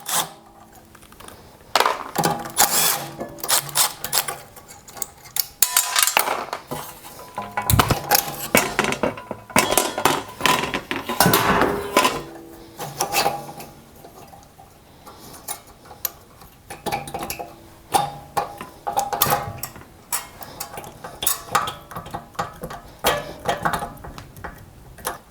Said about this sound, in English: Now I'll get the carburetor off.